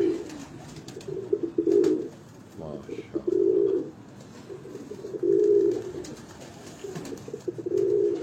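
Pigeons on a Lahore rooftop give repeated low, throaty coos in regular rounds, close and fairly loud, over faint background murmur.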